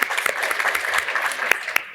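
Audience applause at a green economy panel event, a close, loud burst of clapping with individual sharp claps standing out over the steady wash.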